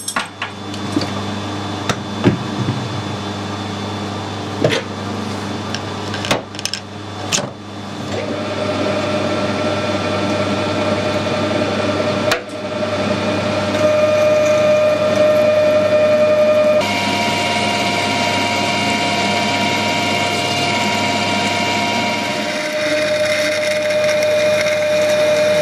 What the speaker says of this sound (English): Put a pilot drill in first.